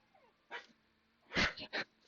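A nearby dog gives a few short huffing barks and yips, one early and then a quick cluster of three, in an otherwise quiet room.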